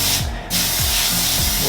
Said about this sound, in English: I'm gonna spray some olive oil so it don't stick